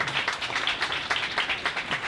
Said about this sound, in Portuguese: Recebam com aplausos, por favor, o escritor Alberto Mussa.